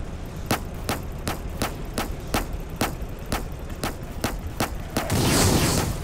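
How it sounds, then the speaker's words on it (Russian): Anti-air gun in the Roblox tank game Armored Patrol firing a steady, evenly spaced string of about a dozen sharp shots, followed by a louder rushing burst near the end. "Ну вот, я попадаю по чуваку антиэйр пушкой."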